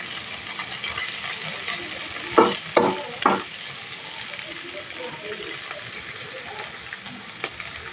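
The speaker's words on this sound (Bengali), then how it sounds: "এইভাবে ভেজে নিতে হবে একটু কড়া করা হবে ভাজাটা" Cauliflower frying in a pan for a Bengali fry, a steady soft sizzle with three loud stirring scrapes close together near the middle and a faint clink later.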